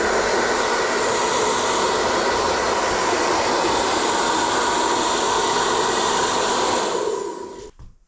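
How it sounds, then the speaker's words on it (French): A hair dryer blows steadily and loudly on a new Rockrider ADVT 920 bicycle chain to dry it, with a constant broadband whoosh that cuts off near the end. "avant de la sécher au sèche-cheveux"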